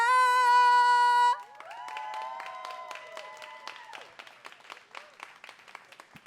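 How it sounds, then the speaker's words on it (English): A sustained musical tone gives way to scattered audience clapping with a few cheers at a poetry reading in Boston as a poet walks to the stage, moderately loud and gradually thinning out. "Please give a big round of applause and keep that applause going until the poet gets to the stage."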